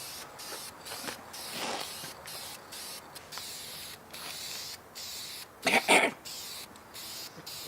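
Spray paint hisses in short bursts and a few longer blasts as it coats an engine and a new set of ARP chromoly bolts, the sound close and fairly loud.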